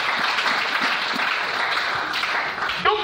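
A French-speaking church congregation claps for the Lord, a continuous, even roar of applause filling the whole stretch, with a brief voice rising near the end.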